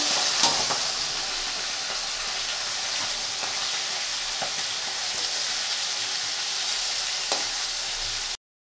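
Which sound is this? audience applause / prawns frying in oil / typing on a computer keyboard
prawns frying in oil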